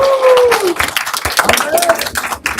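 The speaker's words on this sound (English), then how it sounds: "Give everybody a clap." An audience at a city council meeting claps for students, a burst of scattered applause with a voice talking over it and a brief whistle-like tone at the start.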